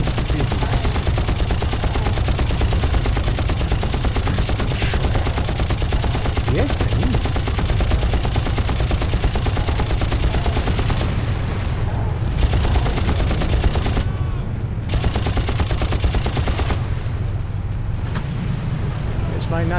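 Constant heavy gunfire rakes at the player in the Far Cry lava-flow level, dense overlapping automatic bursts with a wind-like rumble beneath, loud and unbroken nearly throughout, with brief dips in intensity.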